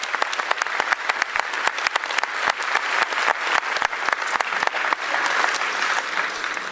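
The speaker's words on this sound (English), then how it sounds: "Please give a warm round of applause to Officer Freddie Baker." An audience at a high school Veterans Day program claps warmly and steadily for a school resource officer, a dense, sustained round of applause filling the hall without speech.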